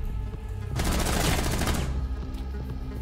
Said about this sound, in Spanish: le pegué tiros ahorita y no cae